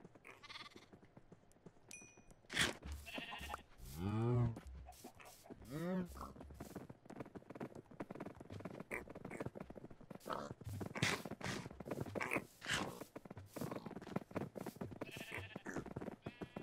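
Sheep bleating in the Minecraft video game, several wavering calls between roughly 3 and 7 seconds, set among dense game sounds and other animal noises.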